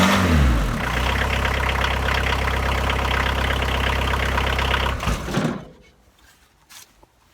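A VW T25 van's engine idles after a cold December start, having sat unused for a week with starting problems. It gives a loud, steady low rumble for about five seconds, then cuts out, leaving near silence with faint knocks.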